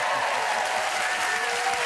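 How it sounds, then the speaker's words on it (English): Studio audience applause on a British TV chat show, a continuous wash of clapping that stays even and fairly loud throughout, with no voices standing out. "Don't clap too loud"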